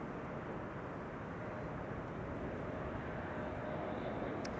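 A KLM airliner arrives at Amsterdam Schiphol Airport, heard as a faint, steady, distant jet roar with no clear rise or fall.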